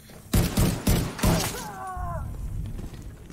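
Gunfire in The Division 2: three or four sharp, loud shots in quick succession, followed by a shattering crash and a ringing, warbling tone that fades, with faint speech underneath.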